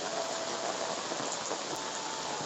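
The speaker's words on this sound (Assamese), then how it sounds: "পানী মানে বৰষুণ দি আছে এতিয়া।" Steady rain falls on a village road in Assam, a soft even hiss of drops on the surface that holds unchanged throughout, with no voices over it.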